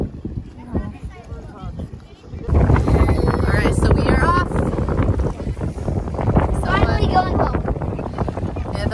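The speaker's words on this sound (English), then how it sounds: "it's a little windy and cold up here" Wind roars steadily across a rental motorboat moving over Kaneohe Bay, Hawaii, buffeting the microphone loudly and continuously after a quieter opening, with faint talk beneath.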